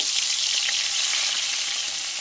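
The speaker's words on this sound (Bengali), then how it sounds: "তেল গরম হয়ে গেছে, মাছের মাথাগুলো এবার ভেজে নেব।" Hilsa fish heads frying in hot oil in a karahi give a steady, dense sizzle that fills the whole stretch at close range with no talk.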